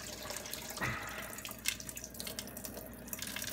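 Water trickles out of a pot through a slightly loose lid, a quiet splashing pour with a soft onset and small drips, faint and close, no voices.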